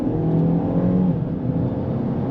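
Engine of a 2023 BMW X1 xDrive28i building steadily under acceleration from inside the cabin, a continuous loud drone with a brief lag before it swells, no talking.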